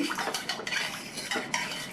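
Rice, coconut and water being stirred with a metal spoon inside a pressure cooker, giving continuous scraping and clinking against the pot, fairly close and steady for a couple of seconds with no talking.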